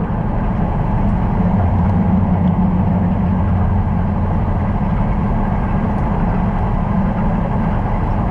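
Truck driving north on a highway through Kansas, a loud, steady low engine drone and road rumble heard from inside the cab, continuous throughout with no talking.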